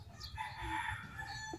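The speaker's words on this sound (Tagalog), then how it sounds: "Marami kasing ibon dito." Farm fowl call faintly in a home vegetable garden of lettuce, pechay and mustard greens, a rooster-like crow and clucks heard distant and quiet over a low background murmur.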